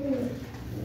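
A brief, soft cooing of pigeons, low and throaty, close by over a background murmur.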